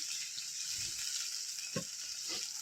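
Water poured into a pan of frying spices for a village-style fish curry, a steady broadband sizzle throughout with a few soft stirring clunks near the end.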